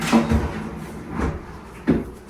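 Kitchen cabinet doors in a house under renovation open and shut three times, each a short close wooden knock or clack spaced about a second apart over a quiet room, with no talk.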